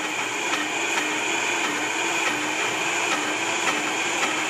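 A Vitamix blender runs at steady high speed, giving a loud, continuous whirring roar with a faint rhythmic pulse and no voices.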